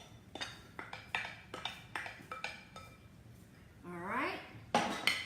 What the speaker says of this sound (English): we're going to just simply stir in all these veggies that we did